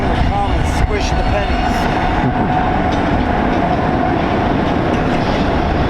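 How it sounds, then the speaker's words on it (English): A train rolls by close at hand in a town, a loud continuous rumble with clattering wheels and faint squeals, and a person's voice partly audible beneath it. "I remember hearing this train all the time because I lived just 2 blocks from here."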